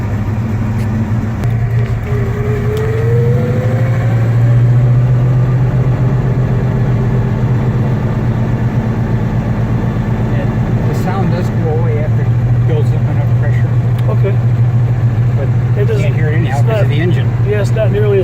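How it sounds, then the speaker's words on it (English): A 1970 Chevrolet El Camino SS idling with a steady low engine drone, a power brake booster pump whirring behind it, while someone talks close by throughout. "A little bit of noise you hear behind me is the"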